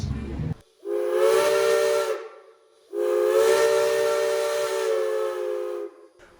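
Steam locomotive whistle on a steam train in Bryson City, North Carolina: two long, loud, steady blasts with a hissing edge, separated by a short gap, close and clear with no talking.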